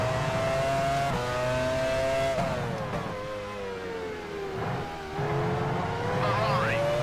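Formula One cars scream past in the racing game F1 Challenge 99-02. High engine whines rise and fall through gear changes as several cars close in, loud and continuous throughout.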